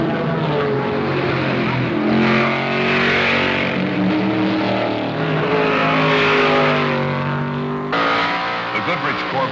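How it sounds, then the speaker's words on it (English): A Goodrich Corvette race car at the 1973 Le Mans 24 Hours roars past with a sustained engine drone that rises and falls, loud and close, with a voice speaking over it. "The Goodrich Corvette is capable of speeds of over 200 miles an hour on the Mulsanne Straight."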